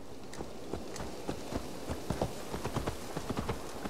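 Horse hooves clip-clop at a steady walking rhythm in the Assassin's Creed Valhalla video game, a run of evenly spaced, moderately loud hoofbeats over a low background bed, with no speech.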